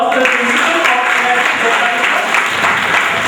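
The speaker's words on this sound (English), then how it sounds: "Let's have a big round of applause for the principal" An audience at a quiz competition at an institute of technology applauds the principal, with loud continuous clapping from a big crowd and a few voices mixed into the sound.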